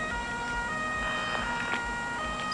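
Emergency vehicle siren in the Feuerwehr 2014 fire brigade simulation game, driven at night: a steady wailing tone holds under a busy background, with no talk over it.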